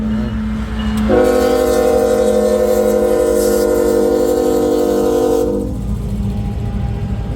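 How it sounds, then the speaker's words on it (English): A train's horn sounds loudly for several seconds over the steady rumble of a passing train in Missouri Valley, Iowa, at the start of a blizzard, then the horn stops and the rumble continues. "And there should be a train passing."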